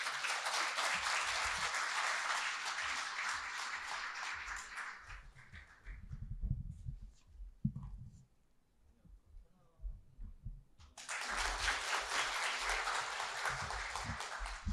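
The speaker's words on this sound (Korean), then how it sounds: "뜨거운 박수로 환영해 주시기 바랍니다" Warm applause welcomes the Daejeon education superintendent at an education data and AI seminar, loud sustained clapping that dies down into low rumbling noise and footsteps, then swells again as a second round of clapping.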